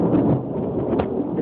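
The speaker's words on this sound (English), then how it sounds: "Excuse the thunder. It's raining cats and dogs outside right now." Thunder rumbles low and steady during heavy rain in a short, continuous burst with no voices.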